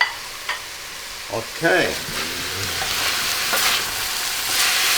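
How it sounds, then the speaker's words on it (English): Thinly sliced fennel sautéing in a pan with sausage, garlic and shallot, a continuous close sizzle with occasional stirring scrapes, under a short spoken word at the start. "And we saute the fennel now a little bit."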